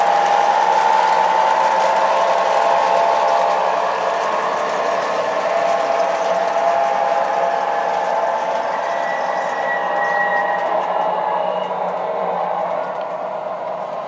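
An MTH model train engine running on a layout loop, a steady electric motor whine and rolling hum that eases down in pitch and level as the locomotive slows, continuous and close with no talking.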